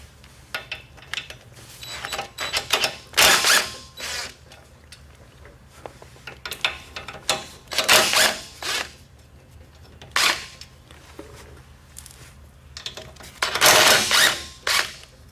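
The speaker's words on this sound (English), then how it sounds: "next will be the valve cover itself, just four bolts around the valve cover." Valve cover bolts being loosened on a Briggs & Stratton small engine with close to 300 hours, heard as bursts of ratcheting clicks alternating with quieter pauses, close up and fairly loud.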